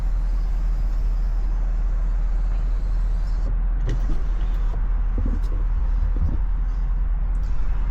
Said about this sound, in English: As you can see, the car's still warming up.